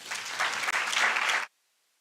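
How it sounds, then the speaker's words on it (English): A short burst of audience applause at a law clinic plan launch event, dense clapping that stops abruptly after about a second and a half. "Another round of applause, please"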